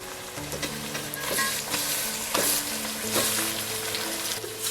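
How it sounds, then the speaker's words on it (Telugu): Chicken frying in hot oil with curry leaves in a pan sizzles loudly and steadily up close, broken by the scrape and clatter of stirring, with no talking. "ఆ తర్వాత సిమ్లో 3 నిమిషాలు ఫ్రై చేశాక కరివేపాకు వేసేసి మళ్ళీ ఒక 1 మినిట్ కలిపేసి అప్పుడు చికెన్ వేసేయాలి"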